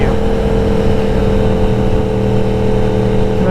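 A Yamaha R1S sport motorcycle's engine roars loudly and steadily up close, a continuous droning pull with wind rush and no clear gaps, heard without talking.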